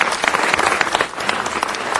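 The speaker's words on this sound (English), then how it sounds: "Well, give him a round of applause." Applause from the audience at a city council meeting, a steady dense wash of clapping hands that runs through the whole stretch at a fairly loud, even level.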